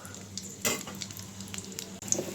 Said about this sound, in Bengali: পেঁয়াজটা রসুনটা ভাজা হয়ে গেছে